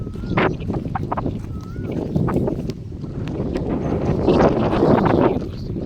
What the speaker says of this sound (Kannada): ಸ್ವಲ್ಪ ಗಾಳಿ ಸೌಂಡ್ ಇದೆ